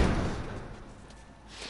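A door being barricaded in The Last of Us video game, a heavy thudding slam with a low rumbling scrape that continues for a moment, no voices.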